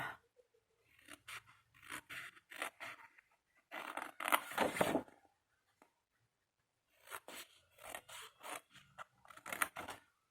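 Scissors snip through paper for a baby-house paper craft in bursts of crisp, close cutting strokes, separated by short pauses and a longer quiet stretch midway.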